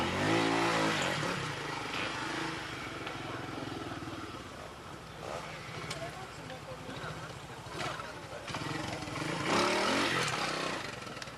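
A trial motorcycle ridden through a rocky section at the 1989 Trial World Championship round in Canada, its engine revving and rising unevenly in bursts at moderate distance, with a commentator talking over it throughout.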